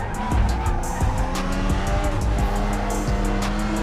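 Race cars in a sim racing video game drone loudly and continuously, with tires squealing and several dull thumps of car-to-car contact cutting through the engine noise.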